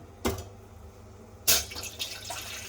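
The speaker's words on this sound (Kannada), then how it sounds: "ನೀರು ಹಾಕ್ತೀನಿ ಇವಾಗ" Water poured into a pot for cooking biryani rice, two cups to each cup of rice: two quiet, short splashing pours set apart by a pause, with soft trickling after the second.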